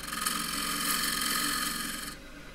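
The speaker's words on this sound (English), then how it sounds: "I'll just true up the top first. Do with the 3/8 bowl gouge." A 3/8-inch flute bowl gouge, half-inch diameter, cuts into spinning wood on a lathe while truing up the top, giving a steady close scraping hiss for about two seconds before it eases off.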